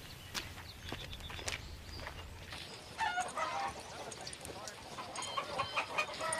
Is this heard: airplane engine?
no